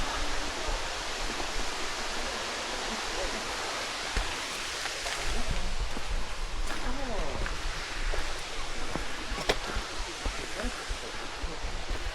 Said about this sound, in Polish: tak dzisiaj wygląda wodospad Kamieńczyka